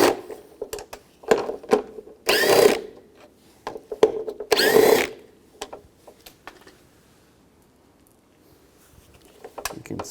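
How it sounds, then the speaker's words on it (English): Power tool with an 8mm socket backing out three bolts on the front driver's door of a 2004-08 Nissan Maxima during window regulator replacement, two loud buzzing bursts separated by clicks and handling clatter. "Take these 3 bolts out,"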